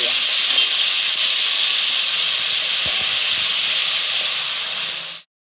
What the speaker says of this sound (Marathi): तर हा मसाला सगळा आपण आता असा फ्राय करूया